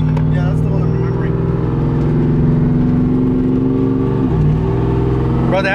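A car engine with a new exhaust, on a dropped NNBS truck on 24-inch wheels, rumbles and revs loudly, a deep throaty drone with rising and falling pitch, with people talking over it.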